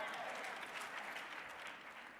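An audience at a conference keynote claps together, a dense, steady wash of applause that fades slightly at the end.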